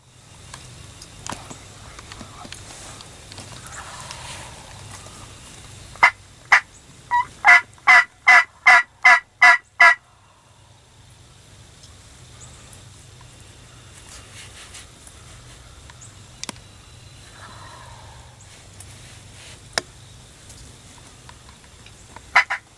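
Wild turkey gobbling outdoors during a hunt: a rapid burst of about eight loud, evenly spaced gobble pulses over roughly four seconds, with a few fainter isolated calls later over a low steady background.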